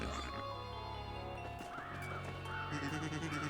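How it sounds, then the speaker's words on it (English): A pig oinks in Paper Mario: The Thousand-Year Door, a deep, bassy cartoonish grunt set over game music, heard clearly in short repeated calls. "I like the sound of this pig's oink. It's got a nice bass tone."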